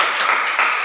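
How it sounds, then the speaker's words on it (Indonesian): A group of participants at a self-development training session claps together in a short, dense burst of applause lasting under a second. "Oke, tepuk tangan untuk kita semua."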